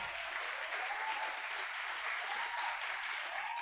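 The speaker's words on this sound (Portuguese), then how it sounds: "Vamos recebê-los com uma salva de palmas." An audience claps steadily in a church service, dense, even applause welcoming a pastor and a guest onto the stage, heard alone and sustained throughout.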